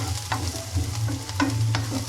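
Kothu parotta frying in a pan just after chili is added, a steady low sizzle with repeated scraping and stirring strokes of a utensil, close and fairly loud with no talking.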